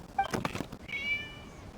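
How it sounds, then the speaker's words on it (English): A single short meow from a cat in the visual-novel game True Tales of the Violet Garden, rising and drawn out and heard fairly close after a few soft clicks and rustles. "It was just a cat."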